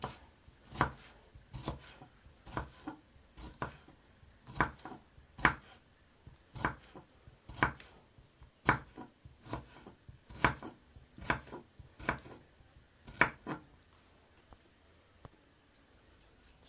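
A knife chops carrot on a board for Jamaican curry chicken foot, crisp close strikes in an irregular series of about a dozen, alone without talk.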